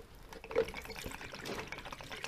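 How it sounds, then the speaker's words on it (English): Motorbike coolant pours from a disconnected water pipe into a jug, a faint, continuous trickling splash with small gurgles up close. "pull the water pipe off just to drain the coolant"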